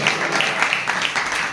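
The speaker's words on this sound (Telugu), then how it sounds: "చప్పట్లు కూడా దేవుని మహిమపరుద్దాం" A congregation at a Telugu church service applauds together, producing a sustained wash of clapping with a loosely rhythmic pulse, near and fairly loud, with a faint voice underneath.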